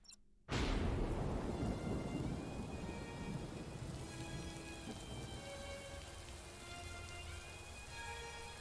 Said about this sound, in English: So we've got a full-on rainstorm.